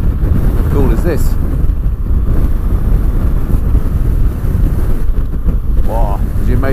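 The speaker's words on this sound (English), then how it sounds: "as you may be able to hear, it's very windy up here" Strong wind buffets a rider on a BMW R1200GS motorcycle, a loud continuous roaring rush over the engine drone, with a brief voice now and then.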